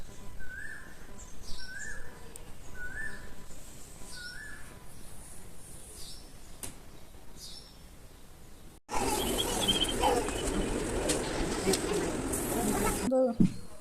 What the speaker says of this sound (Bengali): কত সুন্দর করে কোকিলে ডাকতেছে